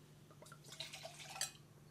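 Wine poured into a glass, a short, faint liquid trickle and splash lasting about a second, quiet and close with no voices.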